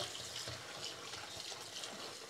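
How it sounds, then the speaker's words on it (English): Cold tap water runs steadily from a faucet over calamari tubes as they are rinsed, a close, continuous splashing stream with no talk. "Run the tube in cold running water like this, then just rinse them."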